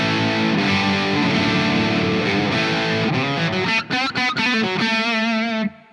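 Electric guitar through a Laney LOUD pedal amp, channel 2 in normal mode: distorted chords ringing out, then a few choppy muted stabs and a final sustained chord cut off, loud and close with no talking.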